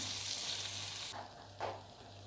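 Green olives and tomato paste filling for Antep-style olive börek stirred in a hot pan, a steady soft sizzle with two brief scraping strokes of the spoon near the end, no talking.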